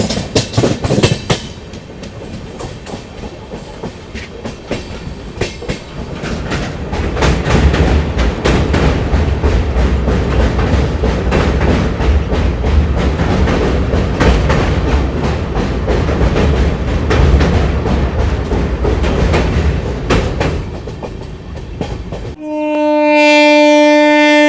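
The Guwahati LTT Express passes close by on adjacent rails, a loud sustained rumble with rhythmic clickety-clack of wheels over joints, cutting off abruptly near the end into a brief tonal hum.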